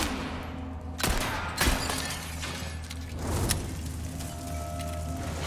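Gunfire in the video game Resident Evil 4 Remake, two loud close shots a moment apart followed by a rougher impact with a shattering edge, set against a steady rumbling game background.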